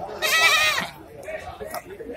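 A goat at an Ajibarang livestock market gives one loud, wavering bleat up close, then fainter market murmur and a short second call follow.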